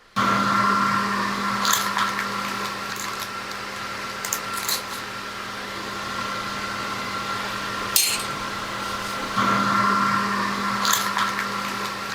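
Steady, loud rush of air from a HEPA-filtered clean air hood running continuously, with a constant hum and a few faint clinks and knocks on top.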